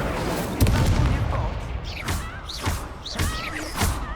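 Incendio fire spell cast during a Hogwarts Legacy duelling tournament: a heavy thumping burst near the start, then a series of whooshing, crackling magical impacts and sweeps in a busy, loud game mix.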